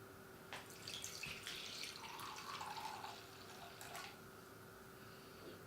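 Red wine poured into a pan of cooking chicken gives a faint, steady liquid trickle lasting a few seconds, quiet against a low background hum with no talking.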